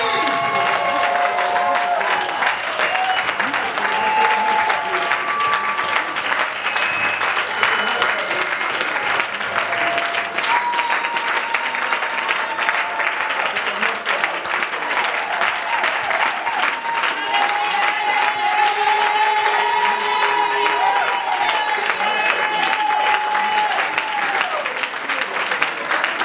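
A church congregation claps along steadily throughout a lively service, dense applause-like hand claps sustained over music and voices.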